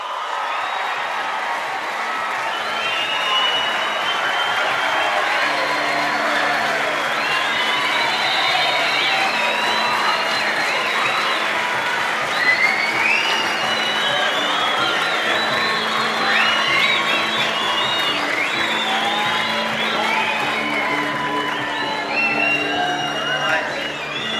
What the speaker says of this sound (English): Listen to that crowd, mate.